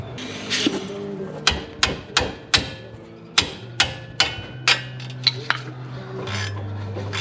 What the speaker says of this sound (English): got it loose with a ratchet wrench and a hammer